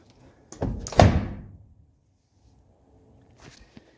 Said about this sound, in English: Listen to a 116 door.